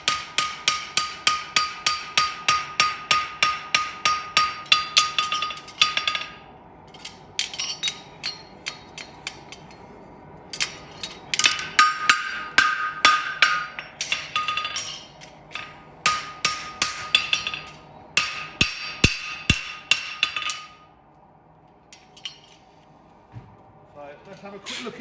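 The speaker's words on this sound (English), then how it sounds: "get the round side of your hammer, give it a good seat out" Bursts of rapid metallic hammer blows ringing on a bar horseshoe on an anvil during live forging, groups of quick rhythmic strikes separated by short pauses.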